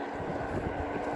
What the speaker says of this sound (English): maybe hard to hear because of the wind